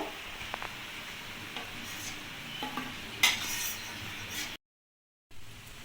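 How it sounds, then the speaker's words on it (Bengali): Carrot pakoras sizzle steadily in hot oil in a wok while being flipped, with scraping and stirring clinks over the frying, then a brief dropout of silence near the end. "পকোড়াগুলোকে উল্টে পাল্টে ভালো করে ভাজা হয়ে গেছে"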